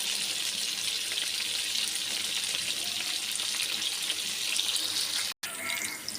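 Chicken pieces for chicken shawarma frying in a pan make a steady, dense sizzle with a continuous bright hiss, broken by one brief cutoff near the end.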